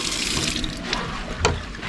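Water runs steadily from a tap at an outdoor bar by a backyard pool, a close, continuous splashing hiss with a couple of brief louder spatters.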